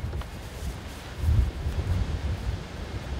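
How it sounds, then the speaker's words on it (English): Strong wind at an outdoor mountain bike ramp buffets the microphone in a low, continuous roar with gusty swells, no voices present. "Oh, I can't turn it, it's so windy."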